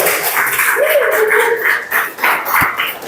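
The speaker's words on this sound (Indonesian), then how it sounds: "Oke, tepuk tangan untuk kelompok 1." Classroom applause for a student group, a dense sustained patter of many hands clapping close by for about three seconds, with a brief low voice underneath.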